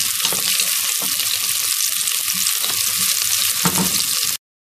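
Beef sizzles loudly in a pan with ginger and garlic paste for a curry, a steady dense fry with stirring scrapes throughout before a sudden brief silence near the end.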